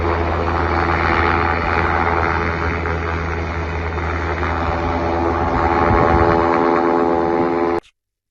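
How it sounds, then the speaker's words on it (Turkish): Firefighting helicopters fly over a forest fire in windy conditions, their engines and rotors a loud, steady drone that swells slightly near the end before cutting off abruptly; no voices are heard. "bölgede çalışmalara katılan helikopterler de rüzgara rağmen yangına havadan müdahalesini sürdürüyor"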